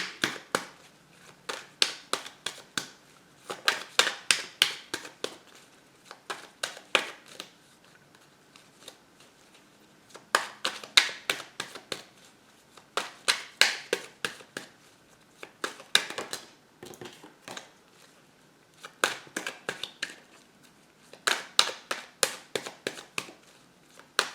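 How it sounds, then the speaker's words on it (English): A deck of cards is shuffled close up in repeated riffling bursts, each a rapid flurry of card snaps separated by brief pauses, with no talking. "If you don't like the shuffling, please scroll ahead."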